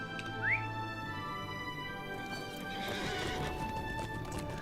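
Horse in The Lord of the Rings Online, a rapid clip-clop of hooves under a short rising whinny, followed by steady galloping over ambient game music and faint birdlike whistles.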